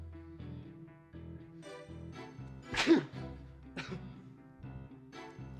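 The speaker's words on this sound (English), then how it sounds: "I'm about to sneeze" A single sharp sneeze bursts out over a quiet background of soft music, followed by a smaller exhaled sound.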